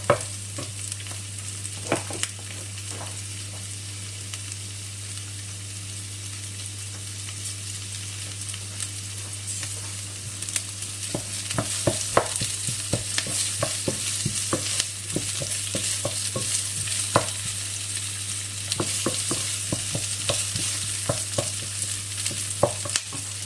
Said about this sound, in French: Je fais revenir l'oignon et l'ail.